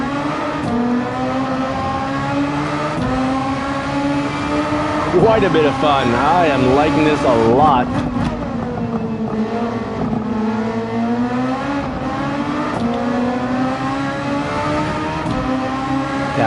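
An F1 race car engine in a racing video game whines at high pitch, rising and falling through gear changes at steady loudness while someone talks over it.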